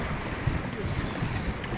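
Strong wind buffets a boat while fly fishing for snapper and kahawai in New Zealand's Waitemata Harbour, a loud continuous rumbling roar of gusts over the microphone with water noise underneath.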